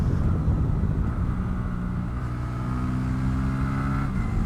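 A Honda Grom motorcycle rides through a section of corners on a country road past farm fields, its small engine humming steadily with a low rumble that dips briefly mid-pass, then holds a constant drone with no voices.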